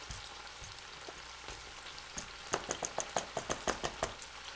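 A quick run of rhythmic taps and scrapes from mixing flour with salt, thyme and rosemary in a bowl before beef cubes go in, faint strokes speeding into a steady beat near the end, no talking.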